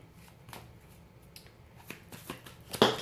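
Tarot cards riffle and slap in a few short shuffling bursts, soft at first and ending in a louder sharp flurry, handled close by with no talking.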